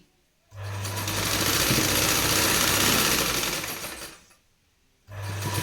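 A sewing machine running a long continuous stitch along a narrow fabric strip for piping, loud and close with a steady whirring drone, stopping briefly before starting up again.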